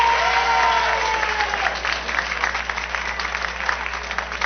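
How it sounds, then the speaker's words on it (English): A television studio audience claps on cue during a late-night talk show, a loud burst of applause that gradually thins and softens while staying continuous through the clip, with a faint tone trailing underneath early on. "those of you who don't want Paul to ask a question, clap your hands"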